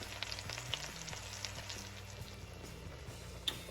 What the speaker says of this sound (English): now that the mushrooms have been sauteed